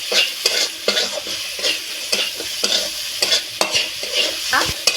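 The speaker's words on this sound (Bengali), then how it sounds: "ছোলাটা একটু ভেজে ভেজে নেবো এইভাবে।" Chickpeas fry in a pan for a vegetarian pumpkin dish, a constant oily sizzle broken by regular scraping strokes of a spoon stirring them around, close and fairly loud.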